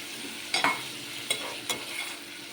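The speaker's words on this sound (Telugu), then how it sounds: "ఇట్లా బాగా కలుపుకుందామండి." Onions frying in a pan with tomato and raw mango are stirred, giving a few close scraping strokes over a soft, steady sizzle.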